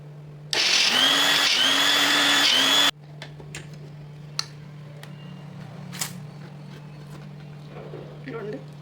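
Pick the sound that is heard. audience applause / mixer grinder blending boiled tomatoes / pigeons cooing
mixer grinder blending boiled tomatoes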